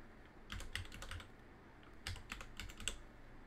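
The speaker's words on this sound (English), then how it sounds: "let's type here" Keys clacking on a computer keyboard as a command is typed, in two quick bursts of close, crisp keystrokes with a short pause between, with no talking.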